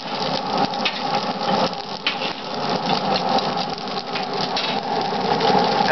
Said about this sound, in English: You hear that fire roaring in beneath it here.